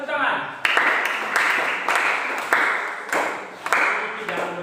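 Classroom applause from students, a burst of clapping that swells and fades in several waves, fairly close and busy, with some chatter mixed in.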